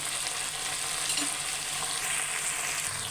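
Cauliflower and new potatoes frying in hot oil with spices give a steady, close, loud sizzle with crackling hiss throughout.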